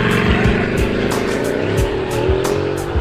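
A Bugatti hypercar with an 8.0-liter quad-turbo W16 engine producing 1,500 horsepower roars loudly, its engine note rising and shifting through gears with repeated bursts, close and continuous with no talk.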